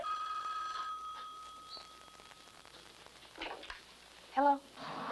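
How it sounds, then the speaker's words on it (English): An early-1980s office telephone rings with a steady electronic bell tone at the start, fairly close and clear, then fades into quiet room sounds and brief rustling. "Janine, get that phone, will you?"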